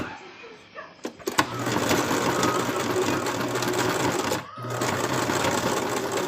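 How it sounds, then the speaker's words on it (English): A sewing machine runs steadily as it sews fabric up into a corner, a close, continuous mechanical whir that pauses briefly partway through, with a voice faintly present in the background. "All I'm trying to do is sew all the way up into the corner now."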